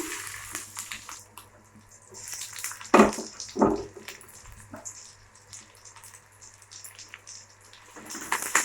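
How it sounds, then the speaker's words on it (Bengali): Chopped onion goes into hot oil in a heated kadai, producing a hissing, crackling sizzle with two sharp louder bursts early on, then settling into a quieter steady fry. "তেলটাও গরম হয়ে গেছে, দিয়ে দেব প্রথমে পেঁয়াজ কুচানো"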